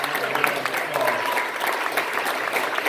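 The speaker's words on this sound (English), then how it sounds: "So give Brother Jeffrey a clap." Audience members at a lecture hall gathering clap for a speaker, producing a steady, even patter of many hands from across the room, with no talking over it.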